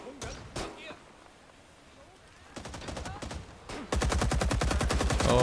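An RPD machine gun fires in the online shooter Rising Storm 2: Vietnam, first a couple of isolated shots, then a short rapid burst and finally a loud sustained stream of automatic fire up close, with a voice speaking at points.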